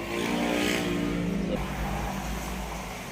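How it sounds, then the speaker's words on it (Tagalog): A red MXI motorcycle on a ride in La Union, its engine a steady, close droning hum that holds loud throughout with a slight shift partway through. "yan yung motor namin, yung MXI na red"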